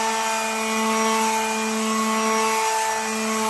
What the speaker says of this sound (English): you can take a palm sander, orbital sander, and give it a whirl